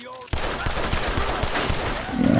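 Rapid bursts of enemy gunfire in Red Dead Redemption 2, a dense fusillade of overlapping shots at close range that swells louder toward the end, with background game sound beneath.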